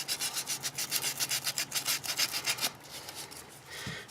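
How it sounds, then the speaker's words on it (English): Steady back-and-forth rubbing strokes of sanding on a Condor Nessmuk knife, about a dozen rhythmic close passes, then a pause with a faint scrape and a soft knock. "you can also sand out maybe some of the imperfections that they didn't get at the factory"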